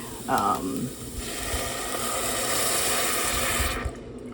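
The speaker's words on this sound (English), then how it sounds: "So I'm going to add in some whole milk and" Whole milk pours steadily into a pot of potato soup, a continuous soft liquid rush that lasts a few seconds before stopping abruptly, with faint kitchen clatter at the start.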